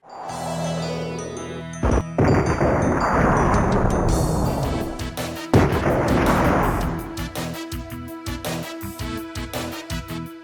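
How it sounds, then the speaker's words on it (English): Explosion in the survival horror video game Alone in the Dark 2, heard as a loud booming blast with rumbling crashes, followed by a run of sharp rhythmic bangs and hits over a steady music bed. "After the explosion, Carnby runs into the mansion grounds"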